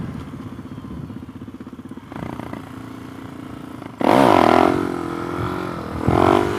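Suzuki DR-Z motorcycle on a private road, its single-cylinder engine chugging at a steady idle before suddenly roaring loud as the throttle snaps open for a wheelie, easing off, then surging again near the end.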